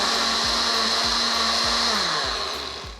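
A kitchen blender mixes a papaya smoothie with vanilla extract, a steady loud motor whir with a high whine and rhythmic low thumps, running alone and fading slightly at the end.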